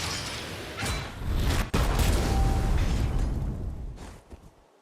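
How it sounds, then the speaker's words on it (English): A Bloodborne stake driver weapon effect in a video game: a heavy burst-like boom with a sharp crack near the middle, then a sustained rumbling roar that fades out. "That was a Bloodborne sound effect, not the explosion. That's the stake driver."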